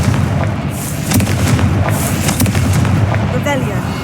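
A Confringo fire spell goes off in Hogwarts Legacy, a loud rumbling blast that carries on with crackling bursts over dense game noise, and a spoken voice is heard briefly.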